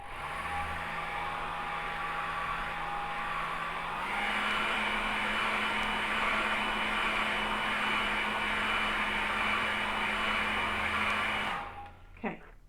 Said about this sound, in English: A hairdryer is a good investment if you haven't got one.